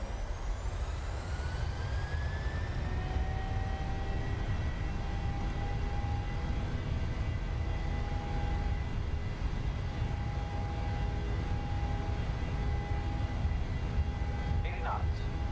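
Takeoff-thrust roar of the twin engines on a PMDG 737-700 in Microsoft Flight Simulator 2020, a steady loud broadband rumble with rising whining tones, continuous throughout and overlaid by cockpit voices.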